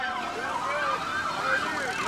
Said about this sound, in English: of course the parade can always start with the lights and sirens